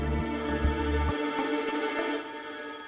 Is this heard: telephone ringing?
yes